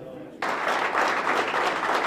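A high-school crowd at Putnam Valley breaks into sudden loud applause and cheering, a rousing ovation for the team manager, sustained and dense after a brief quieter lead-in.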